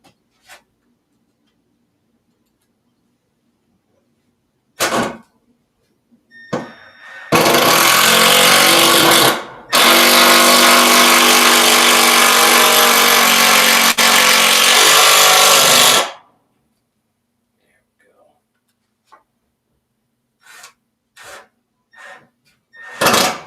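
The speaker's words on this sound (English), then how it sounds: "I don't like how slow those screws are driving in." A power drill drives screws into a wooden bench, with two long loud whirring runs, the first a few seconds and the second longer, bracketed by short ticks and knocks with silence between.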